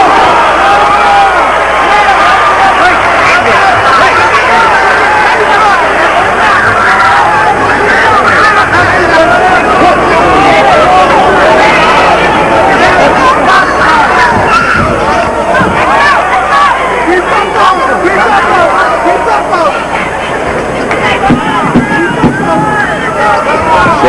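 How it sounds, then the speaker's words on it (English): A hometown boxing crowd roars and revels through a lopsided fight, a dense, steady wall of cheering and babble that stays loud for the whole stretch with no pauses. "The hometown crowd reveling in what is no contest whatsoever."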